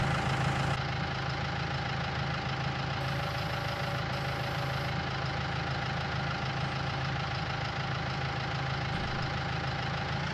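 A tractor engine idles in Farming Simulator 19 on a farm, a steady mid-to-low mechanical drone with a faint knocking pulse, continuous and unchanging throughout with no talking over it.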